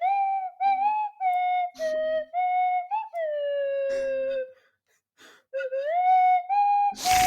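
Slide whistle playing a theme tune, a series of sliding, pitch-bending melodic notes in short phrases with brief pauses, loud and close, ending in a burst of noise.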